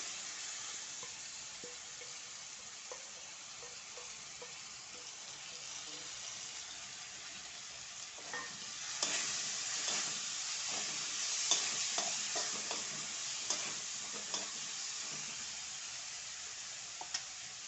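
Soaked moong dal is tipped into a pan with dill leaves and stirred, giving a soft, steady sizzle with spoon scrapes that grow busier and more frequent midway.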